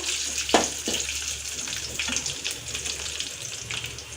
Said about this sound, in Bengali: এখন আমি ওই গরম মশলাগুলি দেবো দিয়ে একটু নাড়াচাড়া করবো